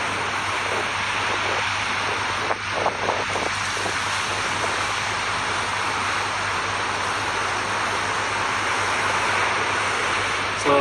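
Sea waves and wind roar steadily at the shore, a loud, unbroken wash of broadband noise with faint, brief knocks early on and no clear talk.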